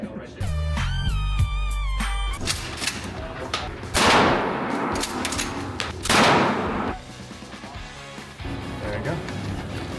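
Loud gunshots boom at an indoor shooting range in Las Vegas, a few heavy reports standing out over music and a busy reverberant background.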